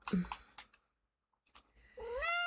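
A cat in a video game meows once, close and clear, after a few short soft clicks and a brief pause.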